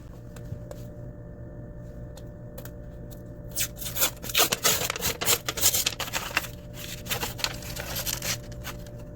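Package of store-bought pizza crust dough being opened on a kitchen counter, a run of crinkling, tearing plastic rustles and rubbing in the middle, close and moderately loud against quiet room tone.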